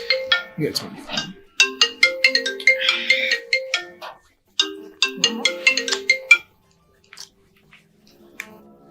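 A mobile phone ringtone plays loud and close as a bright, repeating electronic melody in several bursts with short gaps, fading to softer tones at the end, while a drama scene carries on around it.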